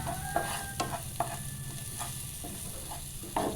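Spice powders of chilli and garam masala being stirred into a frying mixture in a pan, with steady sizzling under repeated scraping strokes of a spoon, close and alone.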